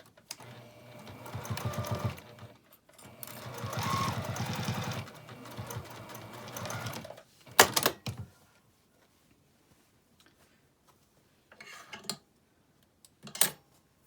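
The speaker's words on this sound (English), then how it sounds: "I'll just sew across that with an 1/8 of an inch seam" A sewing machine runs in two long bursts of stitching across an eighth-inch seam on a fabric pixie basket, followed by short clicks and clatter and then near silence.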